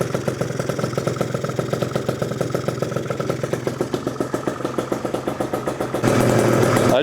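A Gilera Runner 172cc scooter engine idles close by with a rapid, even putter of regular pulses, then shifts into a smoother, louder drone near the end.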